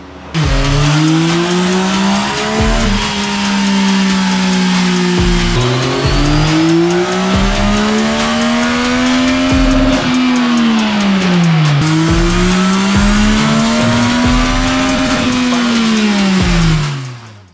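A 2023 Yamaha XSR900 motorcycle run hard on a dyno, a loud close engine that climbs through the gears in long rising pulls, each ending with a sharp drop in pitch at the shift, ending as it winds down.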